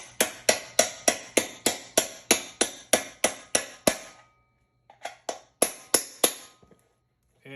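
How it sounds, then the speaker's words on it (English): A socket struck with a hammer to drive a washer onto a dolly wheel: a steady run of about a dozen sharp, ringing metallic blows, then a pause and a few more scattered hits, loud and close with no talking. "Use a socket and just pound it back on."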